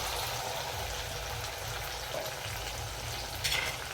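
Veg Manchurian gravy with cornflour slurry is stirred in a frying pan, producing a continuous bubbling sizzle up close, with a brief utensil clink near the end.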